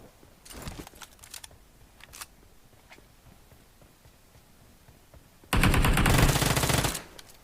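Gunfire in the mobile battle game Free Fire: a few scattered shots early on, then a loud sustained burst of automatic fire lasting over a second, with no speech.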